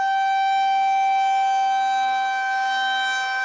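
An El Dorado civil defense tornado warning siren wails in a steady, loud, sustained tone with a slight rise in pitch toward the end, with no voices.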